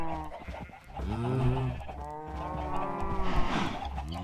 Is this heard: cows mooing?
yes